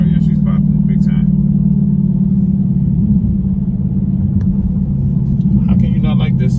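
Loud, continuous low exhaust drone from a car with a mid muffler delete while it cruises under load, with light crackle and brief faint voices over the rumble.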